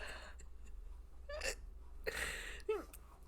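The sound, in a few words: hiccup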